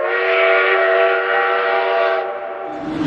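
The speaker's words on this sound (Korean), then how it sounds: "열차는 드디어 마지막 종착역인 뉴욕에 도착을 하고 있습니다." A passenger train on the Los Angeles to New York route pulls into the New York terminal. Its horn sounds loud and sustained for over two seconds before cutting off, followed by quieter rumble.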